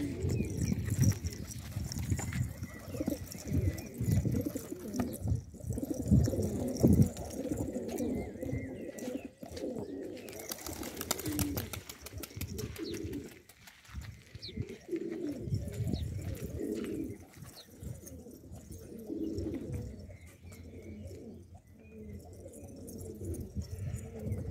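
Pigeons, including a red silvertail, coo repeatedly in a loft, their soft throaty calls overlapping in a steady murmur. Faint chirps and background rustling sit underneath.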